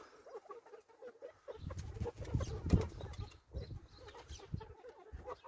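Several chickens cluck and murmur softly nearby, with scattered rustling and a few louder clucks in the middle; no speech.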